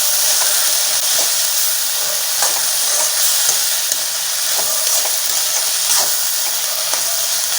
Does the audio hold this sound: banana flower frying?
yes